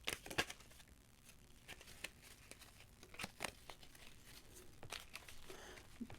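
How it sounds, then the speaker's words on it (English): A deck of print-and-play game cards being shuffled, heard as soft crinkling riffles and scattered sharp paper snaps, fairly quiet and close, with no talking over it. "we shuffle up."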